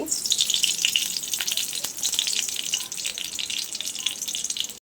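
Ghee heating in a wok while cooking chal kumra shukto, crackling and sizzling steadily up close with scattered pops before cutting off abruptly into silence.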